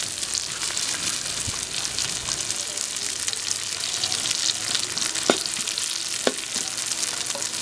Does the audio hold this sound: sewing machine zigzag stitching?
no